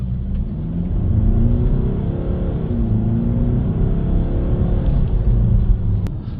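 Mercedes car on a test drive after DPF cleaning and boost hose replacement, a steady low engine rumble with gentle rises in revs as it pulls along, heard from inside, close and continuous, with a short click near the end.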